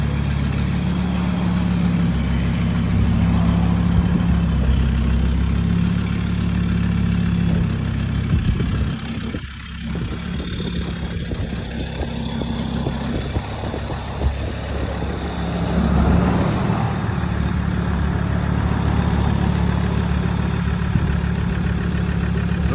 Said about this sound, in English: What a lovely sound them Td5s make